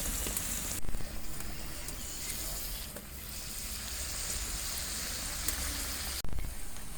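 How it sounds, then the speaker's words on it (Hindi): Keema samosas deep fry in hot ghee with a dense, constant, rain-like sizzle close to the pan, marked by a couple of brief crackling bursts as pieces shift in the oil. "इसे हम अच्छी तरह से फ्राई करेंगे।"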